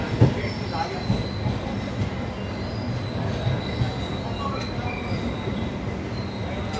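The Palnadu SF Express with LHB coaches moves through crowded Nalgonda station, its wheels squealing and rumbling steadily with faint clicks, set against a busy platform hum.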